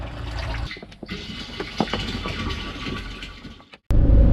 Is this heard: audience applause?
no